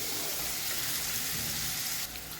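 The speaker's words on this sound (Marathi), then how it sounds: "आता हा कांदा आपल्याला शिजवून घ्यायचा आहे।" Chopped onion frying in a pan for a paneer dish, a dense, steady sizzle like heavy rain that dips slightly quieter near the end.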